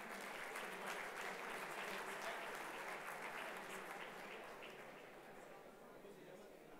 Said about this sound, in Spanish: a quien recibimos con un fuerte aplauso